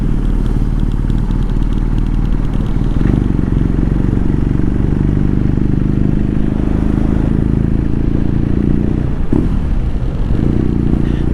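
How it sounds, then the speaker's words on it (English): A motorcycle engine on a UK south coast road tour, revving loudly and continuously up close, with a steady low drone, rises and falls in pitch, and a brief sharper burst near the end. "I love the revving."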